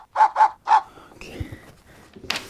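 A dog gives three sharp, close barks in quick succession, followed by quieter rustling and a brief higher-pitched noise at the end.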